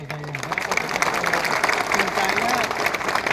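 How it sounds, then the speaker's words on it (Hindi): Crowd applause at a political rally in Sabroom, Tripura, a steady wash of many hands clapping at mid distance while a voice keeps speaking over it through the amplified sound. "सब इनको भी एक बड़ा ताली दीजिए।"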